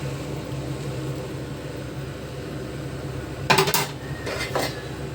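Pork stew with corn being stirred in a pot: a steady low simmering background, then a short cluster of bright scraping clinks from a utensil against the metal pot near the end.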